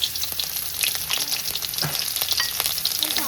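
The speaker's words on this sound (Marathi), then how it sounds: "कांदा टाकायचा तेलात." Onion frying in oil for a Kerala-style fish curry in a Konkan kitchen, a steady dense sizzle with occasional stirring scrapes, close and continuous throughout, no voices.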